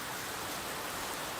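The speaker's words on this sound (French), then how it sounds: "je vous promets qu'en vrai il pleut à mort" Heavy rain pours steadily during a windstorm among poplar trees in gusty depression weather, a dense, continuous hiss filling the air without a break and no voices.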